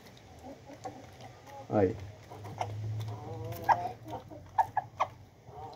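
Chickens cluck intermittently while eating feed, with scattered close clucks and pecking noises over a low background hum as someone talks nearby.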